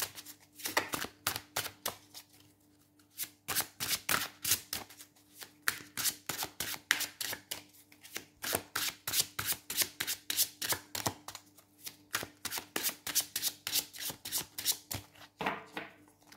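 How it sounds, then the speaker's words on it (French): Tarot cards being shuffled by hand in a rapid run of crisp riffling slaps, pausing briefly partway through and then continuing steadily, close and clear with no voices. "J'ai envie de vous tirer une dernière carte."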